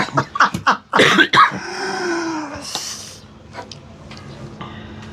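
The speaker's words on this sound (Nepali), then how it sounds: "अहिले खोकी लाग्नु थालिसक्यो" Coughing from someone who has just eaten chilli powder as a forfeit in a blindfold noodle challenge: a cluster of harsh, close bursts, then a long strained rasp that fades into quieter background sounds.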